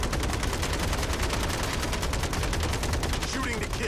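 Rapid automatic gunfire from the video game MindsEye, a dense, steady stream of loud shots that runs without a break from start to finish.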